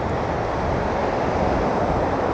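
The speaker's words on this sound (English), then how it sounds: "I need the water to just come in, sweep around these rocks, paint my picture for me." Steady, loud rush of sea waves washing in around rocks on the Plum Island shore, continuous broadband surf with no pauses.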